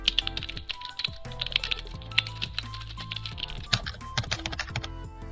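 Quick, uneven clatter of keys as a name is typed on a computer keyboard while setting up a Photoshop action, a close run of light taps and clicks over steady background music.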